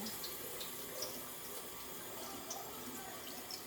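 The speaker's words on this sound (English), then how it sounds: "you want to wash your sink out before and after" Water runs steadily from a kitchen tap into the sink as it is rinsed out, a continuous hiss of flow close by, with faint splashes and no talking.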